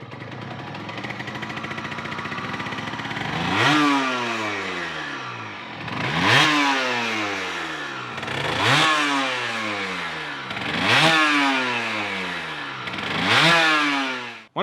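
A Derbi GPR 75cc motorcycle engine idles, then revs in five sharp blips. Each blip rises quickly and falls away, and the gaps between them are roughly even. The engine is close and loud, with no voices.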